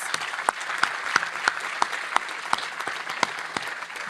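Audience applause for panelists and speakers closing out a MAHA event program, heard as sparse, fairly even claps with sharp individual hits standing out over a soft, steady patter.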